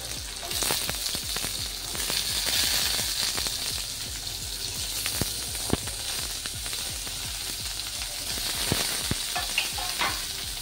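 Chopped bottle gourd hits hot oil already crackling with green chillies, giving a dense, close sizzle with frequent sharp pops and spatters throughout.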